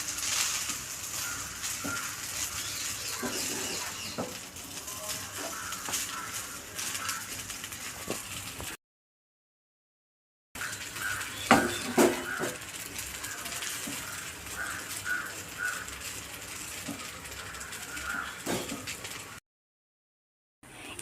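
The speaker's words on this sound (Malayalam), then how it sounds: "പാത്രം ചെറുതായി പോയി, സേമിയം കുറച്ച് കൂടുതൽ പോയി, ഇളക്കാൻ കുറച്ച് ബുദ്ധിമുട്ടാണ്." A spoon stirs vermicelli biryani crammed into a too-small pot, giving faint scraping and clinking in uneven bursts, with two short silent gaps between stretches of stirring.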